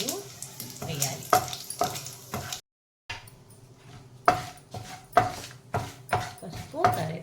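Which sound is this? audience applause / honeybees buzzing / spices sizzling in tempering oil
spices sizzling in tempering oil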